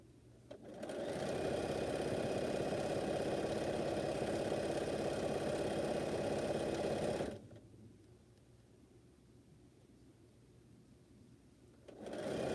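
A sewing machine stitching quilt pieces runs steadily for about seven seconds with a fast even hum, stops into quiet room tone, then starts again at the end.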